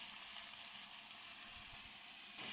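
Onions and carrot frying in oil in a pot, giving a steady, continuous close-up sizzle with no one speaking.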